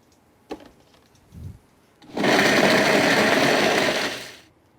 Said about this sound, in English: Drop these guys right in the blender too.